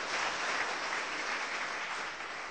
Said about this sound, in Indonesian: Beri tepuk tangan untuk Tuhan kita.